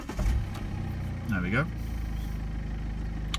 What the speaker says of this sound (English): What I'm going to do is fire the car up and show you that it's free from any warning lights.